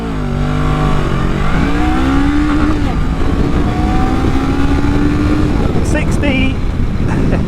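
A 2021 Honda Rebel 500 motorcycle pulls hard through its gears, the engine note climbing and dropping with each shift in a loud, close, continuous roar.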